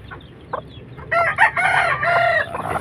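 A Cuban tiger hen sitting on eggs gives a few soft clucks, followed by louder, drawn-out vocal calls, close and clear against a quiet background.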